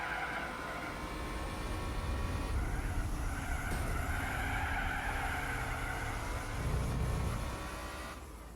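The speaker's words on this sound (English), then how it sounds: "I hear that Fiat." A Fiat's engine drones steadily with tire squeal in the racing game Gran Turismo 4, the revs shifting gradually as it races, loud and continuous throughout.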